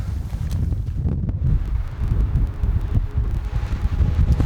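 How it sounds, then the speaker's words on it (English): Strong wind at high elevation in the mountains rumbles and buffets a nearby microphone, a loud, continuous low roar with rustling. "It's super windy"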